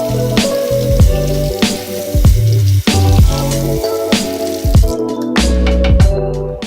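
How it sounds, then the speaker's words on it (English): Water squeezed from a freshly washed makeup brush, wet squishes and drips repeating in quick bursts close to the ear, with a fizzing, crackling wetness between the squeezes. "Then I like to squeeze out the water, trying to get it as dry as it can be."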